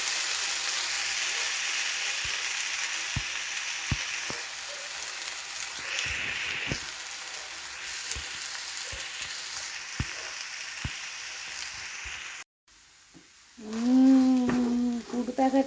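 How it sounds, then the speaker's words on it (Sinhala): Garlic sizzling and frying in a hot pan, a steady broadband hiss with small crackles, then a brief pause before noodles are added and the frying resumes louder; a short bit of voice near the end. "ඔන්න සුදු ලුණු ටික බැදෙනවා"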